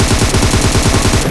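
Rapid automatic gunfire from PUBG on Erangel, fired as a drop shot: a loud, close, unbroken burst of evenly spaced shots lasting just over a second.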